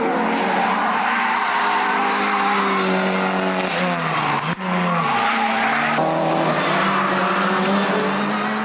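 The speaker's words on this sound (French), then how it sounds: "Sans transition, nous enchaînons avec la Mazda 323 de Jos Boone" Mazda 323 rally car racing flat out on a rally stage, its engine roaring loud and continuous with gear changes, tires skidding and squealing; no talk.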